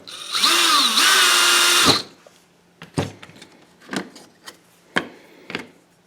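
A power drill bores holes through a metal fishing spoon: one loud two-second whine that pitches up, then a handful of short, sharp bursts and scrapes spaced about a second apart, close by.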